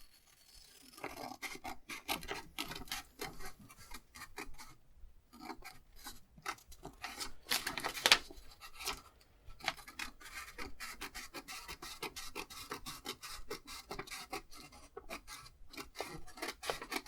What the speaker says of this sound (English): I'm just going to get some scissors and just cut it out.